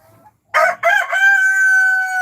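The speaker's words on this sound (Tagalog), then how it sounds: "Ayan, ang mga heritage chickens na matatakaw sa pagkain." A nearby rooster among heritage chickens gives a loud, clear crow that rises sharply and then holds a long, drawn-out tone, following a faint cluck just before it.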